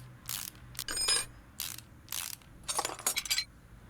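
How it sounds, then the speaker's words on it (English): Brake caliper being unbolted from a car wheel during a home repair: bursts of metallic ratcheting and clinking tool sounds, close and fairly loud, in several separate runs with short quiet gaps. "Take the caliper off."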